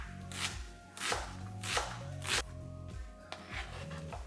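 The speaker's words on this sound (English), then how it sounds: "Then I'm actually gonna chop this up pretty fine." A knife chops an onion finely on a cutting board, with about seven crisp, evenly spaced strikes over steady background music.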